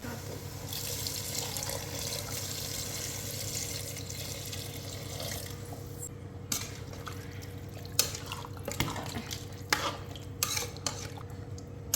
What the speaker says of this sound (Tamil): இப்போ இந்த மட்டன் முங்குற அளவுக்கு நம்ம தண்ணி விட்டுக்கலாம்